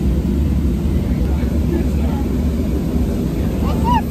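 Constant broadband roar of an airplane cabin, a steady engine drone filling the whole clip with no breaks.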